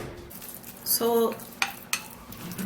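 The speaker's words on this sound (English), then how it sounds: "just going to be mixing it" Tomato mixture being stirred in a bowl, with a short scraping burst near the start and two sharp clicks of utensil against the bowl afterward, over quiet room background.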